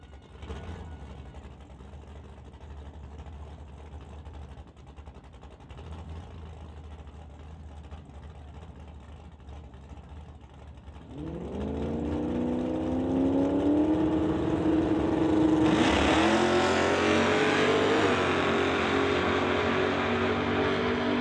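A 2003 Cobra Mustang drag car launches down the strip at a drag race, engine building from a low idle to a loud rising roar that climbs in pitch through the gears.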